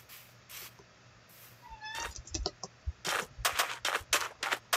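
A pet cat named Calvin meows near the microphone, a rising wail midway, followed by scattered clicks and rustles in an indoor room.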